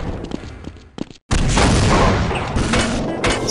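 Grenade explosions in a video game, fired into a pit at close range: a few short thumps, a brief dropout, then a sustained loud rumbling barrage of overlapping blasts that carries through to the end.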